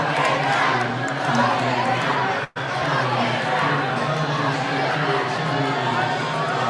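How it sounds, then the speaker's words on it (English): A large crowd at an NYC primary election victory party chants loudly and exuberantly, with voices massed together in a continuous rowdy roar that cuts out for an instant midway. "there's the crowd at the victory party chanting very exuberantly"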